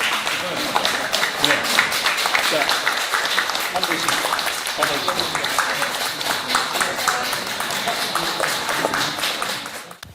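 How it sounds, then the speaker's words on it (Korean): An audience at a poetry book concert claps to welcome six poets, a dense patter of hand claps running throughout while someone speaks over it, the clapping thinning and fading at the end. "박수로 맞아주십시오"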